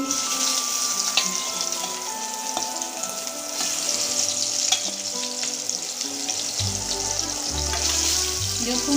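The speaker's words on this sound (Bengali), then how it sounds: "নুন হলুদ মাখানো মাছের মাথা এবার ছেড়ে দিচ্ছি তেলে" A fish head coated with salt and turmeric fries in hot mustard oil, giving a loud, continuous crackling sizzle close up with a low rumbling bubble rising later and no voices.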